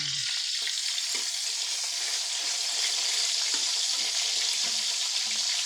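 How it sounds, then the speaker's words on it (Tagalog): Steady bubbling and sizzling from a pot of soup on the stove, a constant hissing wash of boiling liquid with no voices. "Pakukulin lang natin yung ating soup."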